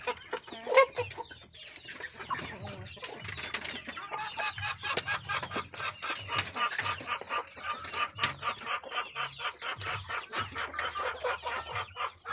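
Native chickens on a Philippine farm cluck busily at feeding time, a dense, rhythmic stream of close clucks and pecking with an occasional louder call.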